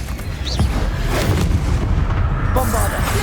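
In the Hogwarts Legacy video game, a Bombarda spell explodes with heavy booming blasts and rumbling impacts, loud and close, while a voice speaks over the action.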